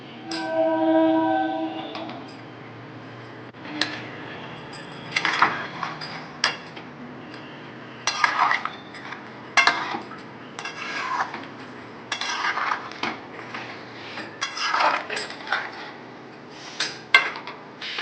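A spoon scrapes and clinks against a pan while poppy seed and melon seed paste is stirred, in a series of distinct, irregular metallic strokes over quiet background hum.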